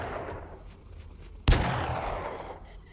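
A single sharp gunshot from a weapon in 7 Days to Die, loud and sudden, cracking midway through and trailing into a short rumbling tail over quieter background ambience.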